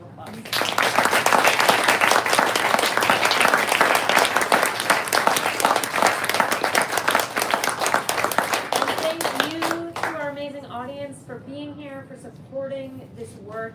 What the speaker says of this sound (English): Everyone, let's give them a round of applause.